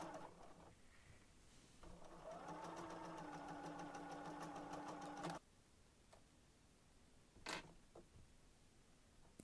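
A sewing machine stitches a seam around a small fabric drawstring bag, a soft steady mechanical whirr for a few seconds that stops abruptly, followed by faint handling clicks and a brief rustle.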